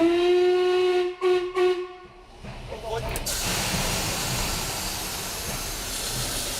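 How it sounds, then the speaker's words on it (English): Märklin model express steam locomotive approaching, opening with a long steady whistle broken by two short gaps, then swelling into a broad loud hiss of steam and rolling noise that fills the rest. "The approach of the express steam engine is a visual and acoustic treat."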